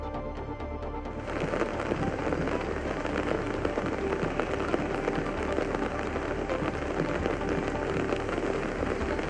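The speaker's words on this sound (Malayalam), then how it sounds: "കോഴിക്കോട് നഗരത്തിലും ശക്തമായ മഴ തന്നെയാണ് ലഭിച്ചുകൊണ്ടിരിക്കുന്നത്" Heavy rain pours down across Kozhikode city in a dense, steady hiss of drops hitting surfaces, starting right after a brief quieter moment and holding constant without a break.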